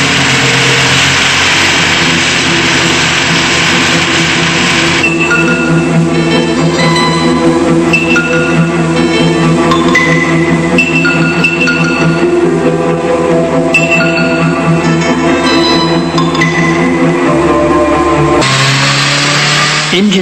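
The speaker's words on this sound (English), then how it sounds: "the automatic bench for testing the new power units" Skoda car engines run steadily on an automatic factory test bench in 1982, a loud continuous mechanical drone with shifting whine tones and a pitch change near the end, mixed with background music.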